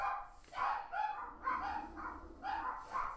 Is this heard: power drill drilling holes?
no